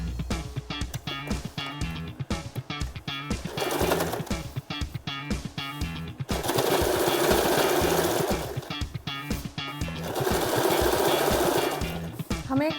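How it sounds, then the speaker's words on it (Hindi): A sewing machine stitches along the folded edge of Patiala salwar cloth, rapid mechanical clatter in bursts that pause and restart, with longer continuous runs near and loud. "इसके किनारे किनारे एकदम हमें फिनिशिंग से सिलाई लगानी है।"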